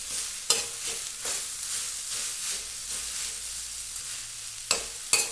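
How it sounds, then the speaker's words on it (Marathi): Methi (fenugreek) vegetable dish frying on an iron tawa while a spatula stirs it, a steady close sizzle broken by a few sharp scraping clinks of utensil on metal, no voices. "मस्त याला फिरून घेते"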